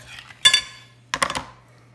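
A knife cuts through a lime softened by 30 seconds in a microwave during fresh garden salsa prep, giving two short bursts of crisp cutting and board contact close by, the second a quick cluster of strokes, with no talk.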